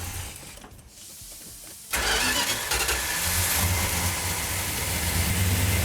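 A Plymouth Duster 340 V8 cranks and catches after a moment of quiet, then settles into a loud, steady rumbling run close by with slight unevenness in the idle.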